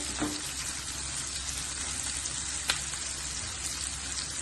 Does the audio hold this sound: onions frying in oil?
yes